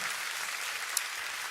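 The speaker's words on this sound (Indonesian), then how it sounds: "Berikan tepuk tangan yang meriah buat Tuhan." A church congregation claps in warm, steady applause, a dense even patter of many hands filling the room, with no voices rising above it.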